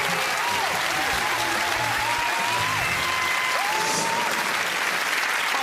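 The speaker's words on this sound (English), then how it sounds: "Applause, because you are correct." Studio audience applause rewards a correct answer on a celebrity quiz show, loud continuous clapping with a bright electronic tone gliding and warbling over it.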